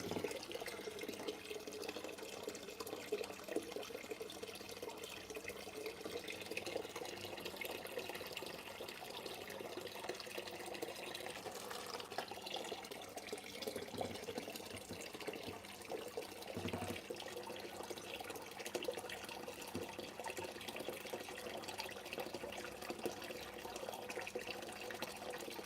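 Water runs steadily into an aquarium during a water change, a soft continuous trickle and hiss with faint splashing, quiet and unbroken throughout.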